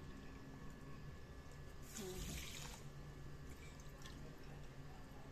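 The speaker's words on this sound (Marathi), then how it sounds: "त्याच वाटीने 3 वाट्या आपण पाणी घेऊया" A brief burst of running water pours into a bowl for about a second, then fades back to a quiet room hum.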